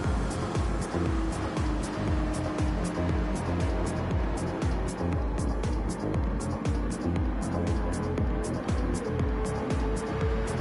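Gran Turismo 7 Gr.3 race cars, a BMW and a Porsche, racing at the Red Bull Ring, their engines a steady loud drone with rhythmic pulsing revs throughout.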